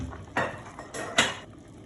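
A couple of clanking metal thuds and scrapes as pieces of pan-fried meat are moved into a pressure cooker pot, close and fairly crisp with no talking.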